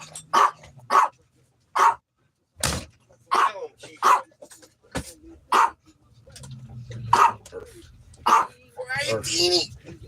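A dog barks in several short, sharp bursts at close range, mixed in with people chatting nearby.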